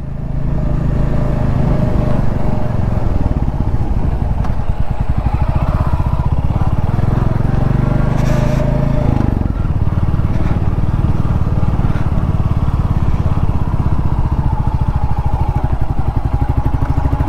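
A motorcycle rides steadily at about 40 km/h, its engine droning loudly and continuously up close with wind rumble, the pitch dipping briefly midway before settling again.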